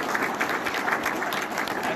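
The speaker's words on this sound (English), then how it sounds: "So you just give them a round of applause." Steady applause from a gathered crowd at a fiber internet ribbon cutting in Braham, Minnesota, a dense even patter of clapping that holds throughout.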